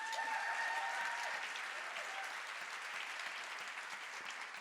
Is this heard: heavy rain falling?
no